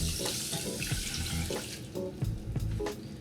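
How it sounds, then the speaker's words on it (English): Two cups of water poured into a pot holding one cup of quinoa on a home kitchen stove: a steady, close splashing stream runs for about three seconds without pause. "I'm just gonna add 2 cups of water."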